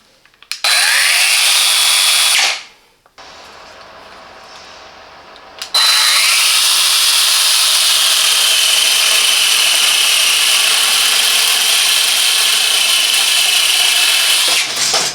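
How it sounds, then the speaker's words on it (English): Parkside 20V cordless wood cutter PAGHS 20 LI B2 cutting wood outdoors, a loud high buzzing motor that runs briefly, drops to a lower strained tone while biting into the wood, then roars steadily for a long stretch. "our complete test of the Parkside 20V cordless wood cutter"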